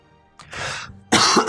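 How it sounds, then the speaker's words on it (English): Two short coughs, the second louder and harsher, close and alone without talk, set in a Pillars of Eternity playthrough. "Coughing again."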